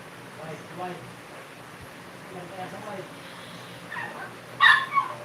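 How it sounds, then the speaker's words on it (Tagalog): A pet dog at home barks and whimpers in short yips, with a sharper burst of barking near the end over a faint background and low indoor hum. "Ang ingay pa ng aso ko."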